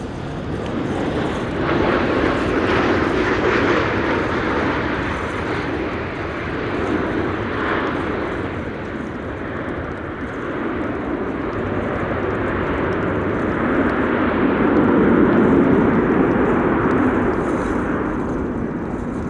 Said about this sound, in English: you might be picking up sounds of a departure. That's, I think, an A321neo from KLM,